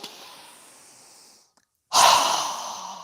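Strong open-mouth yoga breath: a soft, steady inhale fades to a brief silence, then a loud, forceful exhale bursts out close to the microphone and trails off.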